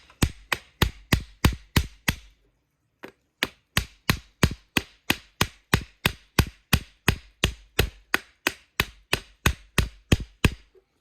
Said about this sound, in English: so getting it into the ground. It's going to be a little while and I need a bigger hammer